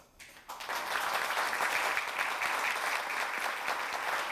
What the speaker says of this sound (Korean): 다시 한번 따뜻한 박수로 축하를 해주시면 감사하겠습니다.